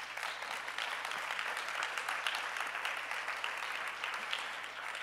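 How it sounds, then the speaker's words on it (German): A steady burst of audience applause greets the second candidate at a Green Party primary event in Cologne, many hands clapping evenly and fairly close for about five seconds with no voices on top. "Applaus"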